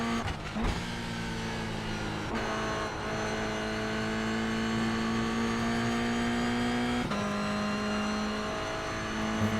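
A race car engine revs and drones steadily in an iRacing sim session at Oulton Park, with gear shifts marked by sharp pitch drops at a few points and the whine climbing between them, continuous and loud with no talk.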